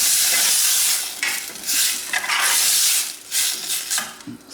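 Tomatoes hit a hot pan already holding pepper, basil and oregano for a from-scratch red sauce, giving off a loud, steady broadband sizzle with the scrape of stirring. Brief dips in the hiss mark each stroke of the spoon, and there is no talk.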